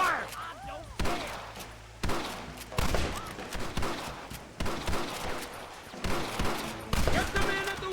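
Heavy gunfire rings out in a Red Dead Redemption shootout, with repeated loud bursts of shots about once a second and shouted voices between them.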